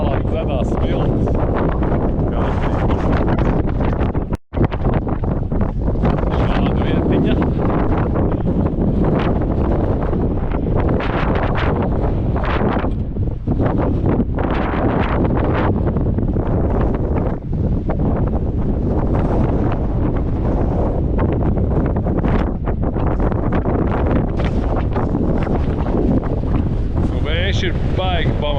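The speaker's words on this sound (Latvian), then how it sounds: "Vējš ir baigi pamatīgs." Strong, relentless wind buffets the microphone beside rough water at a remote Georgian hot spring, a loud continuous roar with gusty swells and people talking faintly underneath.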